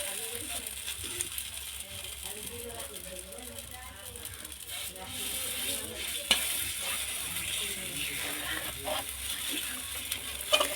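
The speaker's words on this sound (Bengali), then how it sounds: "বারবার পাখা দিয়ে নাড়তে হবে" A spatula stirs and scrapes food around a wok while it sizzles, a continuous frying hiss with occasional metallic clicks and scrapes, and a person talks over it.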